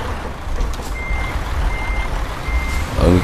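A truck in Euro Truck Simulator 2 sounds its reversing beeper, a steady series of evenly spaced electronic beeps over a loud low engine rumble, with a brief air-brake hiss near the end.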